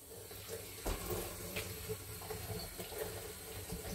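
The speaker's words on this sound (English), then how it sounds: "I'm just going to wash this spoon off." Running tap water over a spoon at a kitchen sink while cooking sweet and sour chicken, a steady close splashing stream with broadband hiss and a few small clinks, no talking.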